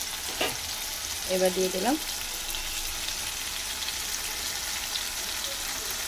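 Chili soybean frying in a pan as tomato and chili sauce go in, a steady low sizzle and hiss with a brief stirring clatter near the start, plus a short spoken phrase over it.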